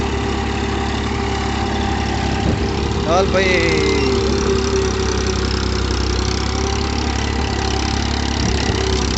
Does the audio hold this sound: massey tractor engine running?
yes